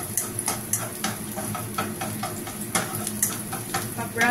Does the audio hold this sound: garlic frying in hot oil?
yes